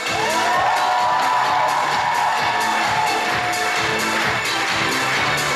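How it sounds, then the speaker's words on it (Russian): A crowd at the Belarusian State University Student Spring 2019 gala concert applauds and cheers, with steady loud clapping and whoops that carry on for several seconds in a large hall. "Эти аплодисменты только для вас."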